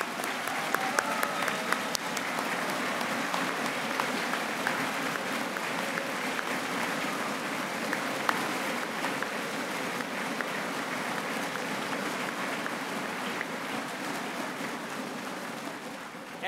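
A room full of people applauds teachers standing up at an event, a long, dense, sustained round of clapping at even loudness, fading slightly at the end.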